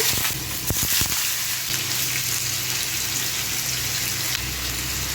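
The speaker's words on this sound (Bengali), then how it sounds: "আমার প্যানটা গরম হয়ে গেছে। তেলটা একদম খুব সাবধানভাবে আলুগুলো ফ্রাই করতে হবে।" Potatoes frying in hot oil in a heated pan, heard as a steady, close hiss and sizzle with a few sharp crackles near the start. No one speaks.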